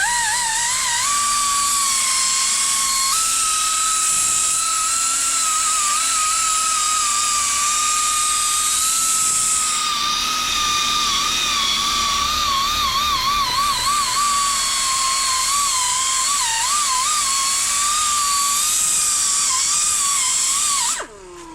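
A power sander buzzes loudly and continuously against a Porsche 911 headlight lens, its high whine wavering slightly in pitch as it works the wet plastic, then cutting off right at the end.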